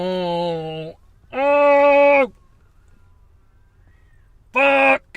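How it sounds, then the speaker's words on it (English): A cat yowls loudly in three long, drawn-out cries with pauses of quiet between them, close and clear with no talking. "You hear that cat yowl?"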